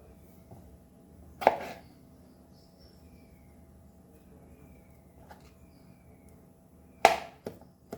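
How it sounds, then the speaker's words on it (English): Ripe banana being cut into round slices on a board for a French toast topping, giving two loud knife chops far apart with faint scattered taps between them in a quiet kitchen. "this topping bananas, you have to cut this into round shape or long shape"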